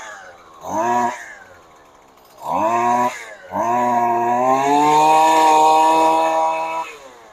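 A repaired Husqvarna 128 LD two-stroke weed eater fires up in two short revving bursts, then holds a loud, steady high-pitched engine whine for several seconds before cutting off, close by with no talking.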